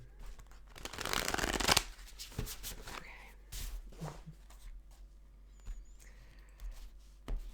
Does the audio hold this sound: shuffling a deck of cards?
yes